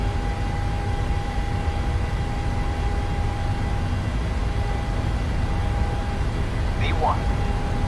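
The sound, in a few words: PMDG 737-800 jet engines on takeoff roll, Microsoft Flight Simulator video game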